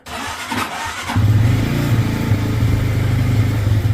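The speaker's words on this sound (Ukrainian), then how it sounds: "Зараз запустимось і послухаємо, як на ньому торохтить двигун." A brief starter whir, then a cold Geon Pantera motorcycle engine with the choke on catches and settles into a steady, close, rattling idle.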